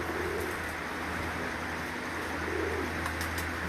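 Pigeons coo softly in a loft setting, with low, rounded calls rising and falling a few times against a steady background hum and faint chirps, and no talk.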